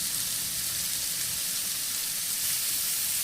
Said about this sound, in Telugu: ముల్లంగి వేసుకొని దీన్ని కూడా ఫ్రై చేసుకోవాలి.